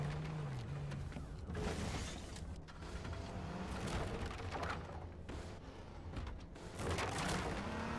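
Video game gunfire bursts out in repeated loud volleys and booms over a dense, constant mix of game noise, with no clear voices.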